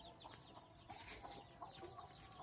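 Chickens clucking around a house in a rural province, a few short calls scattered over steady background noise at moderate distance.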